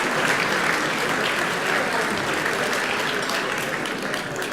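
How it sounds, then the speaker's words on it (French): An audience at a local ceremony in Soustons applauds French pelota champions with dense, steady, sustained clapping and no pause. "Vous pouvez les applaudir, s'il vous plaît"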